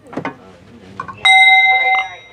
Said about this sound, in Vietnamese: Loại chuông như thế này, bữa các thi cũng có thỉnh một cái.